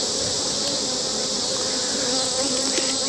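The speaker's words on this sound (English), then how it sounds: "the bees will sneak out from underneath it" Honey bees buzzing around a hive frame, a dense steady close-up drone of many insects with no voices.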